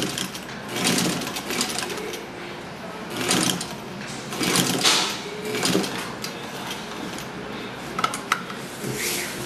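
A sewing machine stitches through fabric in several short bursts, running forward and then backward to lock the seam, close and clear with brief pauses between runs.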